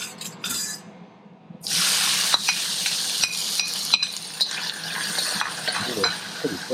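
Oil sizzles loudly in a hot, pre-seasoned pan, a steady frying hiss that jumps in after a short quiet start and carries on with small crackles and a few utensil taps.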